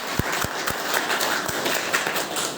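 An audience at a political party meeting for election sector in-charges in Sultanpur applauds, a steady wash of clapping with a few sharper individual claps standing out near the front.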